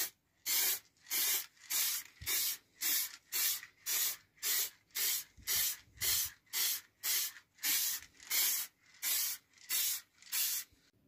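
Aerosol varnish sprayed in coats onto a routed recycled pine wooden cross, a rapid series of about eighteen short, close hissing bursts in a steady rhythm with brief silences between them.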